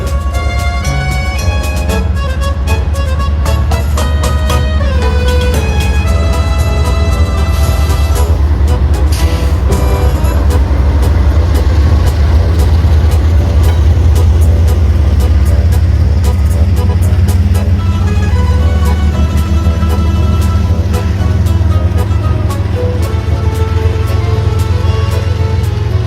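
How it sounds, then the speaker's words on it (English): A Norfolk Southern autorack freight train passes westbound on the plains of Ohio, making a loud, continuous, close rumble with rolling clatter and tonal metallic rings that last throughout. "NS auto rack train headed westbound."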